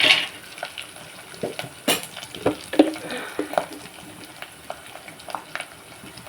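Spices with turmeric, salt and chili powder fry in a pan for mango dal, with a soft sizzle under scattered clinks and scrapes of a stirring utensil against the pot.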